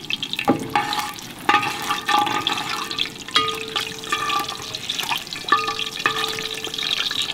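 Whole spices crackle and sizzle in hot ghee and oil for a Kongunadu-style mutton biryani, with steady close frying hiss, spoon stirring clinks and scrapes against the pot.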